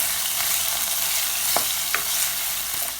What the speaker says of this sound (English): I will add the cardamom, cinnamon and the cloves to the fry, and I will give it a mix